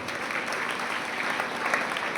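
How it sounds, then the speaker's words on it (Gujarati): Audience applause at a career guidance program and book launch in Tankaria, a steady wash of many hands clapping throughout, fairly loud and even, with no voices above it. "નાસિરભાઈ લોટિયા સાહેબનું બી જોરદાર તાળીઓથી અભિવાદન કરીશું"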